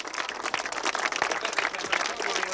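A crowd at a 1990 Malvern Hills road running race applauds the winner, a steady wash of clapping from many spectators that continues throughout at moderate distance.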